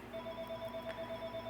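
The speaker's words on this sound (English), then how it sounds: "I'm sorry about my phone ringing" A phone rings softly indoors during a herringbone bead bracelet session, a faint steady electronic ringtone repeating through a short stretch with no voices.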